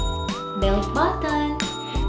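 A short bell-like notification chime rings out over a sustained tonal musical backdrop, with brief bright accents repeating a few times and no talking, the sort of cue used for a subscribe or notify button.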